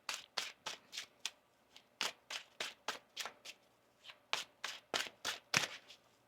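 Tarot cards being shuffled by hand in a quiet room, a close series of crisp riffling bursts in uneven rhythm, about twenty quick flutters with short pauses between.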